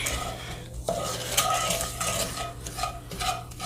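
A browning roux is stirred in a pot, with a spoon scraping and clinking against the metal over a low sizzle and a steady background hum, the strokes repeating throughout.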